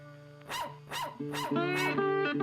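A cartoon dog in a Hindi animated story barks four times in a steady rhythm, each sharp yelp ringing over a sustained musical tone in the background.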